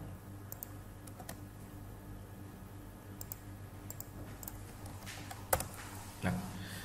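A computer keyboard used while running a Laravel install command, with light scattered key clicks and then a sharper, louder keystroke like Enter near the end, over a steady low hum.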